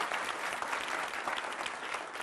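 Dense, steady applause from a television studio audience at a political debate show, clapping continuously at a moderate level throughout the short stretch.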